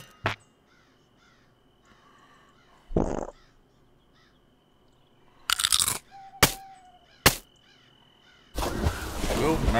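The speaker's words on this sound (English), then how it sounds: "What's up with that freaking bird?" Bird cawing in the pixel pirate game Pixel Piracy, a few harsh calls amid crunchy bursts and clicks over quiet background music.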